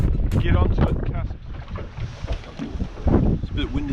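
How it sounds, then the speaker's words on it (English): Wind gusts over a small fishing boat drifting at sea, loud and close, buffeting the microphone with a continuous rough roar, along with scattered knocks and splashes of water against the hull. "It's a bit windy out today."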